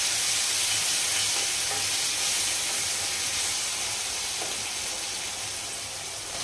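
Bottle gourd pieces dropped into a pan of frying tomato in an Andhra home kitchen, a loud continuous hiss and sizzle with steam and faint stirring, close and steady, no talking.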